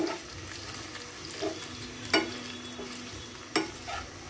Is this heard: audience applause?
no